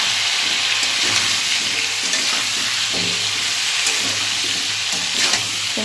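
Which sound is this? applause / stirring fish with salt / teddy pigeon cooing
stirring fish with salt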